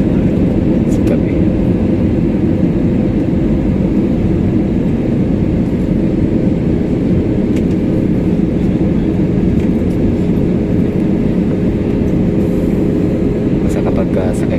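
Constant cabin drone of an airplane in flight at night above Davao City, a dense low rumble and airflow hiss running unbroken, with a voice talking over it.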